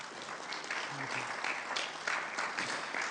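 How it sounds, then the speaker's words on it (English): Audience applause welcoming a panel at an Arabian horse flat racing festival event, a dense, continuous wash of many hands clapping throughout, with faint voices mixed in beneath. "Please welcome, with your applause, our panel."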